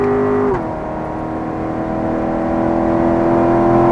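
A car on a track pulls through a gear change, the engine note dropping at the upshift and then climbing steadily as it accelerates, loud and close with a steady droning whine.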